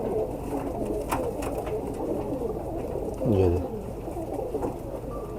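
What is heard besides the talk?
pigeons cooing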